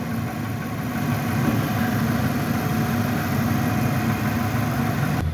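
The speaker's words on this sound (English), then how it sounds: "shot of the exhaust for the motor running" A 2018 Nissan Titan 4x4 pickup truck engine idles steadily, recorded close at the exhaust, with a smooth low rumble and no talking.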